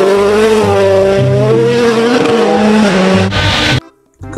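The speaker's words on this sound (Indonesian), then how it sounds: "Yang ini ada mobil balap." Toy race car sound effect with a loud revving engine whine that climbs and wavers steadily, a squealing tire screech near the end, then a short burst of lower noise.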